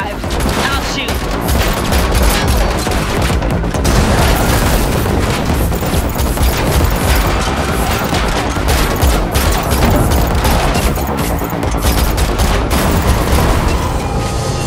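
Dense, sustained gunfire in The Matrix Awakens, an Unreal Engine 5 video game, with rapid overlapping shots and booming impacts. The barrage is loud and nearly continuous throughout.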